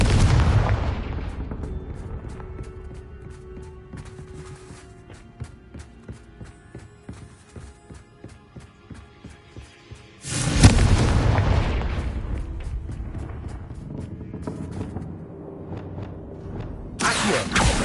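Confringo explosive spell blasts in the Hogwarts Legacy video game, with loud, sharp booming bursts at the start, around the middle and at the end, separated by quieter game ambience.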